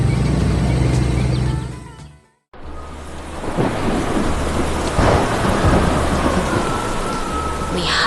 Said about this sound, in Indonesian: Lihatlah badai besar itu.